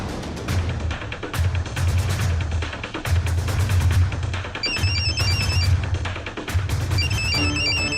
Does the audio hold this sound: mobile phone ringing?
yes